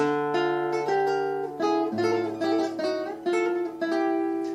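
A clean, plucked guitar line in a milonga with sustained notes, each bass note followed by quick upper auxiliary flicks to a neighboring note and back.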